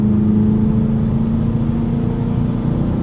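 A 2010 BMW E92 M3 pulls slowly in 7th gear at about 75 mph and 3,000 RPM on a winter drive. Heard from inside the car, the engine gives a steady, loud, low drone with no talking.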